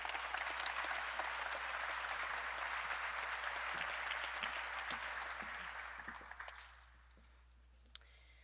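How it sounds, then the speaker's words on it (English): An audience at the grand opening of a sports performance center gives a sustained round of applause that holds steady and then fades out over the last couple of seconds. "Please give a nice round of applause for Brittany Murchie Mulla."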